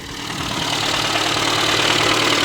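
A car engine runs steadily under light throttle during a home repair, with the close, loud mechanical drone swelling slightly at the start and then holding even without stalling.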